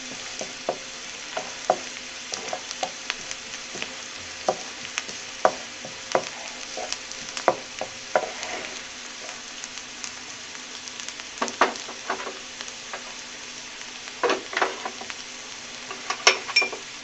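Onions frying in a pan for mash dal, a steady sizzle with regular scraping and clinking strokes as they are stirred, close and continuous with no talking.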